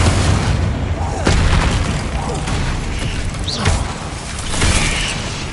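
Confringo spell explosions in the Hogwarts Legacy game: several punchy booms and bursts over a busy battle din, with a voice talking through the fighting.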